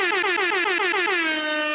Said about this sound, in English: Let me get some horns.